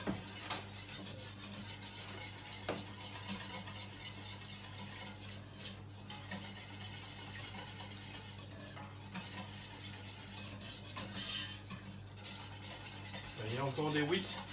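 Béchamel of butter and flour being whisked in a saucepan, a soft continuous stirring and scraping with faint sizzling, occasional utensil clinks against the pan, quiet and close.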